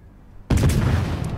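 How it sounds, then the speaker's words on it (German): Leningrad destroyer guns firing in World of Warships: a sudden loud boom after near silence, with a rumbling tail and a faint second report. "Und da gehen jetzt auch die ersten Schüsse raus."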